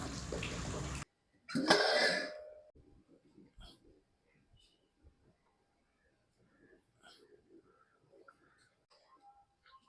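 Water is poured into a pan for vegetable Maggi noodles in two short, loud splashing bursts, followed by near silence with faint scattered kitchen sounds and soft voice fragments.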